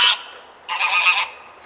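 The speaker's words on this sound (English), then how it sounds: "Can you hear this, Goose? I'm sorry. He's a gander" Two loud, nasal honks from a gander, a short one followed after a pause by a longer, drawn-out call, close by with no other sound.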